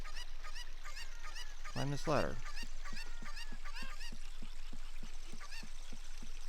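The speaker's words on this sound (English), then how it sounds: "You can throw the chicken away now." Chickens cluck in The Legend of Zelda: Ocarina of Time as a run of short, repeated game clucks and squawks, with one louder burst, while someone talks over them.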